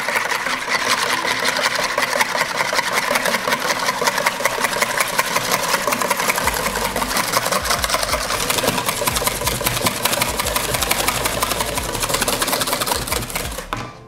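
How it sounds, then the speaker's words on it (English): Cream is whisked by hand in a bowl to make butter, giving a loud, fast, continuous rhythmic clatter of the whisk that runs steadily for the whole stretch before it stops. "All you then gotta do is just whisk it up."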